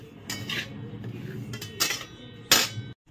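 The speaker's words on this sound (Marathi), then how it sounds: "हा रवा आता ब्राऊन रंगाचा होईपर्यंत, गोल्डन ब्राऊन रंगाचा होईपर्यंत भाजून घ्यायचं आहे छानसर असं, आणि हलवत राहायचं सारखं" Semolina dry-roasting in a pan while being stirred, with a run of metallic utensil scrapes and clinks against the pan and a few sharp bright strikes, close and fairly loud, ending in silence.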